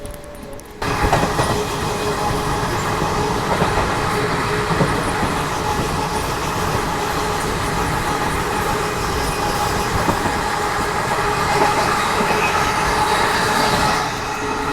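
A Garib Rath express train from Chennai to Delhi passing the Kerala Express, heard from on board as a sustained, even rumble of wheels and carriage noise with faint clickety-clack and occasional squeals, starting suddenly after a quiet moment.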